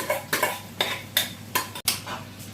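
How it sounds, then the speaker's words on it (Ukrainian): Pre-soaked rice stirred as it fries in a pan, a steady rhythm of about six scraping, clinking spoon strokes against the pan, close and moderately loud. "Добавляю рис який був раніше замочений. Тут пів літра рису. І хай трошечки прижариться."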